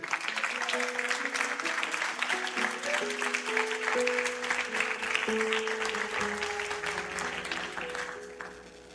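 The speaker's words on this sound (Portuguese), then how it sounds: "Uma salva de palmas a Deus pela vida desse pastor." A church congregation applauds for its pastor, sustained clapping over a held chordal tone from an instrument that shifts pitch several times before the sound gradually fades.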